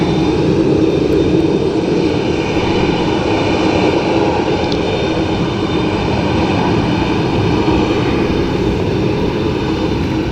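An Aer Lingus jet at Dublin Airport gives a loud, continuous engine roar that holds steady and close throughout, with no talk over it.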